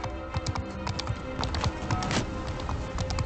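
Horse hooves clip-clop in the video game Bannerlord, a quick run of light taps against a busy game soundscape, without speech.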